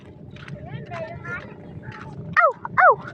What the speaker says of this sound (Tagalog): Yung aso dito!